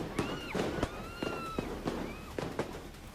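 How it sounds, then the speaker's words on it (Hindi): Sharp cracks of gunfire and bangs ring out at a street protest in Yangon, several irregular reports spread over a few seconds amid distant noise and faint wailing tones. "तनातन फायरिंग और धमाके, बेतहाशा भागते लोग"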